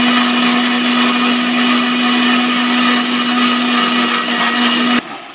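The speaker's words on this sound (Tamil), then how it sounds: "இதை மிக்ஸில் ஊற்றி ஒரு 2 அடி அடித்து எடுத்துக்கலாம்" A kitchen mixer grinder blends a cooled mango ice cream mixture with a loud, steady motor whir. The whir runs continuously for about five seconds, then cuts off abruptly.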